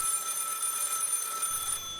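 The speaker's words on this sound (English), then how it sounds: "Don't ask me why this phone is ringing when you are the person calling." A telephone rings inside a phone booth in a scary video game, a steady electronic ring with bright tonal bands that holds at an even level for about two seconds, with no talking.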